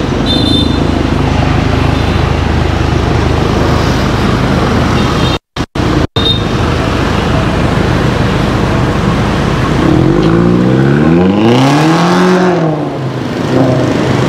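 Car wrapped in purple film driving along with steady road and engine noise, then revving with rising and falling engine pitch near the end, close and continuous.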